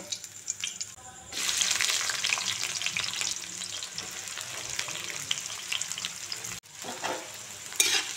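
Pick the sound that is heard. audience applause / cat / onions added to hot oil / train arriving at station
onions added to hot oil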